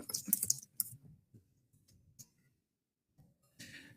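Keys clatter on a computer keyboard in a quick cluster of clicks, then sparse quieter taps, close and soft, with a brief rustle at the end.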